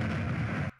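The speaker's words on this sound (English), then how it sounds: "We hear that explosion." A Minesweeper game-over mine explosion sound effect: a single loud, rumbling blast that holds steady for most of a second and then cuts off abruptly into near silence.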